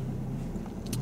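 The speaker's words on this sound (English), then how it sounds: "Can you hear how the humming's going on in the car there?" A car engine idles at low throttle during a driving lesson, giving a steady low hum from inside the cabin, with a faint brief hiss near the end and no talking.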